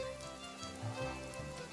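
Rain falls steadily in a video game, a soft even patter on surfaces running alone and quietly throughout the short stretch.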